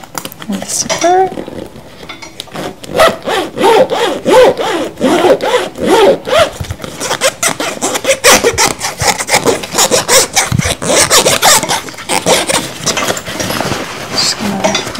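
Scraping, rubbing and clicking handling noises at close range, a zipper worked back and forth amid rustling fabric for several seconds.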